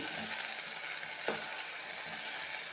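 Onions and potatoes frying in oil for a potato-tomato curry, a steady close sizzle with one brief scrape of stirring partway through.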